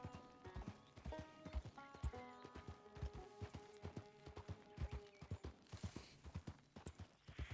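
Horse hooves clip-clop at a steady walking rhythm in a horse riding simulator video game, close and distinct, with faint tonal ambient game sounds behind.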